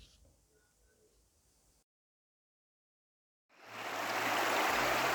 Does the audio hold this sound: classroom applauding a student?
no